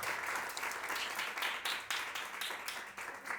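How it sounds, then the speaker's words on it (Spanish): An audience at a panel conversation breaks into applause, a steady, fairly faint wash of many clapping hands heard alone. "Este es el aplauso, Bren"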